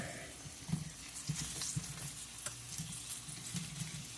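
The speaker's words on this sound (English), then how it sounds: "we're just gonna kind of finish frying these up a little bit and get some flavor on them" Potatoes sizzle steadily in a pan at low volume, with occasional soft clicks and scrapes as they are stirred.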